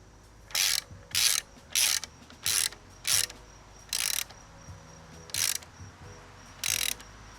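Ratchet wrench clicking as it tightens a 14 mm fitting on an ARB air manifold in a Jeep, eight short bursts of rapid ratcheting with brief pauses between, close and clear with no talking.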